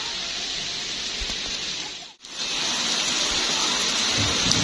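Heavy outdoor rain pours down in a dense, steady hiss and patter while children bathe in it, loud and continuous apart from a momentary dip in the middle.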